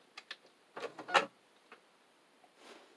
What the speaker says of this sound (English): I'm not going to do a zigzag, I'm just going to do a straight stitch.